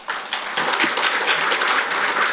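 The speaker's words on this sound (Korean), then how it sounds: "성일종 의원님께 다시 한번 큰 박수 부탁드립니다." Audience applause at a defence technology seminar, a steady wash of clapping from a seated crowd that swells and holds for a couple of seconds without talk.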